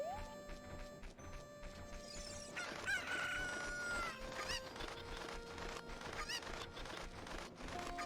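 Cuckoo chickens in The Legend of Zelda: Ocarina of Time cluck and crow repeatedly over busy game music and effects, close and fairly loud throughout.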